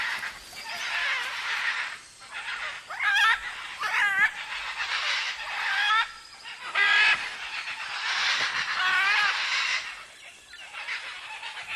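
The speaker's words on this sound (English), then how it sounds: "The young, non-breeding pairs and adolescent birds gather and playfully squabble in the palm trees" Young, non-breeding pairs and adolescent macaws squabble playfully in palm trees at night, loud raucous screeches and squawks coming in overlapping bursts, close and harsh, with brief gaps between outbursts.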